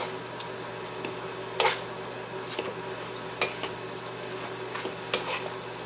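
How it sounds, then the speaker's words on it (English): Chow mein noodles being stirred in a pan, a quiet sizzling bed broken by three sharp clanks of the utensil against the pan at a few-second intervals. "So we're just gonna continue mixing this. Until our noodles are cooked."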